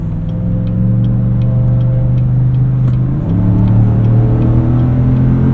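A 2018 Chevrolet Tahoe RST Performance Edition accelerating onto a highway, heard from the cabin: a loud, steady low engine drone that deepens and swells as the revs climb, with a clear shift partway through.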